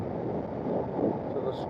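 Wind buffeting a helmet microphone on a motorcycle doing just under 60 mph on a Welsh road, a steady broadband rumble that stays loud and continuous throughout.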